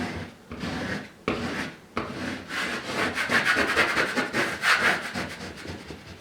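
Squeegee rubbed firmly over a vinyl wall decal in repeated close strokes, a raspy scraping rhythm of short swipes with brief pauses between, loud and without voices.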